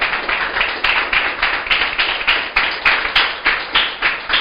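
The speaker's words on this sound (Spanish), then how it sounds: "Aplauda al Señor" Church congregation clapping in unison during a sermon, a loud rhythmic beat of many hands in a steady, evenly spaced pulse, close and continuous with no talking.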